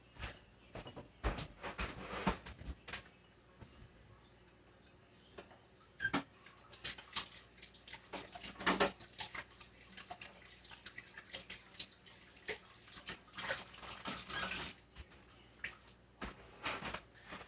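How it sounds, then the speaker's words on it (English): Hands are washed under a running kitchen tap, with splashing water and irregular bursts of rubbing and dripping close by at low volume, broken by short gaps. "I'm going to wash my hands real quick."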